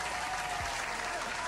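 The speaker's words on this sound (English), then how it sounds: "Clap it up for Kawhi Leonard." Steady, dense applause from a crowd, loud and continuous throughout with no break, as if cheering a celebrity's generous donation on a morning talk show.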